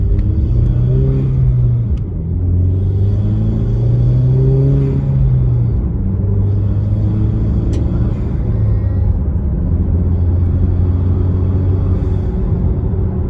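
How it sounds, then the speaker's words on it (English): A 2.0T Camaro engine with a Mishimoto cold air intake rumbles close by, its pitch climbing and dropping repeatedly as it revs up through several gear changes, with a steady whooshing intake. "Now I'm gonna let you guys hear it just going through the gears normally."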